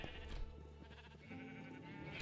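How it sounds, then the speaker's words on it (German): Sheep bleating in the Minecraft video game, a series of repeated nasal bleats close and loud over a continuous game-sound background, with no talking. "Das war ein anderes Schaf."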